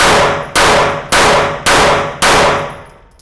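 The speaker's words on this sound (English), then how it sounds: "Pull the toggle back to release and shoot." Five sharp, loud pistol reports from a World War I Luger fired through a full magazine, evenly spaced about half a second apart, each with a ringing decay, the last shot trailing off into quiet.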